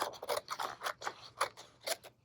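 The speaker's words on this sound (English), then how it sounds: "I am going to cut it with my scissors so I don't have to roll this whole thing through the machine." Scissors snip through tape in a series of crisp, close clicks and slices, about seven sharp cuts in quick uneven rhythm, alone and fairly quiet.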